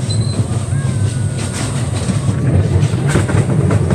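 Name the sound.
train passing at McCormick-Stillman Railroad Park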